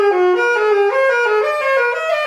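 A saxophone plays a short stepwise descending scale figure, notes flowing smoothly together with a clear, sustained tone, close and alone.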